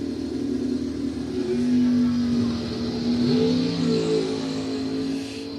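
A 1972 Chevy Corvette launches at a bracket drag race, its mid-pitched engine revving hard and loud with a steady roar that climbs and holds. A second car's engine blends in beneath it.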